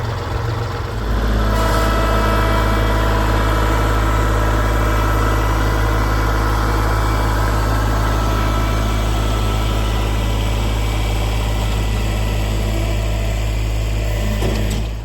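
A heavy diesel tractor engine idles steadily and loudly at close range, a constant low rumble with mechanical vibration and no talking.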